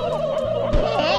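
Loud, close turkey gobbling from the South Park Nintendo 64 video game, a wavering gobble over game background sound with a thud partway through and no voices.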